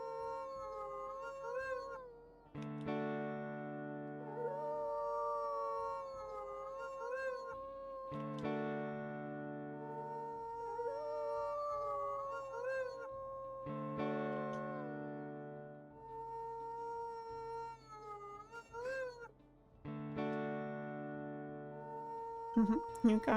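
Wolves in the WolfQuest video game howl in long wavering overlapping tones, several voices layered over a steady low hum, rising and falling in repeated waves for over twenty seconds.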